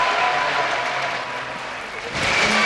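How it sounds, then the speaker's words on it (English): A large arena crowd cheers and applauds at an esports grand final for League of Legends, a loud, dense roar that dips briefly and then swells again. "Just listen to the crowd as everyone's cheering for Gambit Gaming."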